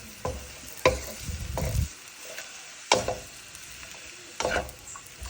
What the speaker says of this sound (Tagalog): Ito yung pansit natin na stir fry.